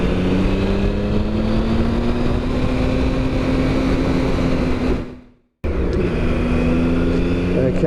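Triumph ST Sprint 1050 motorcycle engine pulling hard under acceleration, a loud close drone with a rising pitch, a brief drop to near silence, then the engine note resumes.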